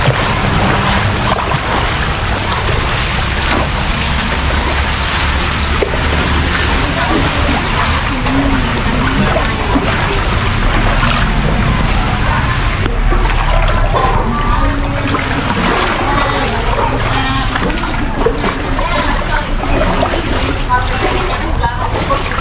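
Seawater flooding a street in North Jakarta, a constant loud rush and slosh of water with vehicle noise in the background, and people talking faintly over it throughout.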